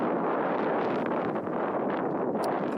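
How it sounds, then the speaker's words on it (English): Strong wind outdoors on open water buffets the microphone with a continuous loud roar and gusty rumble, steady throughout with no voices. "I don't know, because it's very windy."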